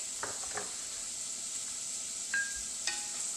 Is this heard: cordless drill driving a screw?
no